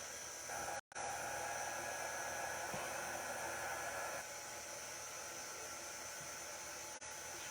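A heat tool runs steadily for several seconds, drying a chalk-and-paint junk journal craft project, with a brief cutout near the start and a short dip close to the end, and no talk over it.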